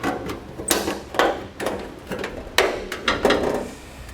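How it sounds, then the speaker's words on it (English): The metal heat shield under a 2016 Volvo XC90 is cut along a marked line during a Curt trailer hitch install, giving several close, sharp crunching cuts in uneven bursts with short gaps between them. "We're just going to cut along this line."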